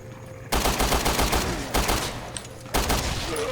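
Rapid bursts of gunfire erupt in the Resident Evil Revelations 2 video game after a brief quiet start, with loud, dense volleys continuing almost without pause and a few sharper blasts standing out.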